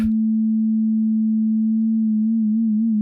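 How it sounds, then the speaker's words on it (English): A steady FM synth note with low-frequency pitch modulation, a pure sine-like tone that holds level and then begins to wobble slowly in pitch toward the end, loud and alone. "that's basically a very low frequency modulated sound"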